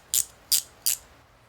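A Matco S9GRRCXLM10 ratcheting wrench gives three crisp, evenly spaced ratchet clicks in quick succession, close and bright against a quiet background with no talking.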